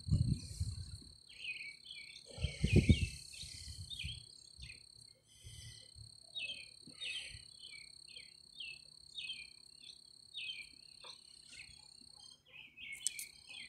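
Birds chirp outdoors in short repeated bursts over a constant high insect trill, with a couple of dull low thumps near the start and a quiet background otherwise.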